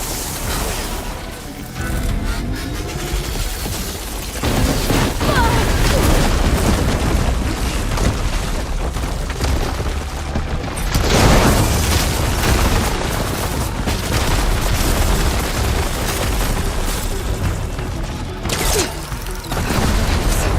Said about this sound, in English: Hopefully the Tenants will fire a few shots from that ballista.